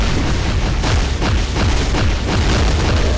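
Repeated deep booms from the Hulk character in Marvel Future Fight, a rolling series of heavy game explosions and impacts packed closely together over a dense, loud, continuous mix.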